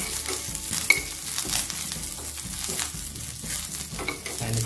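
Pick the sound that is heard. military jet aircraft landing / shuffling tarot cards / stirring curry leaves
stirring curry leaves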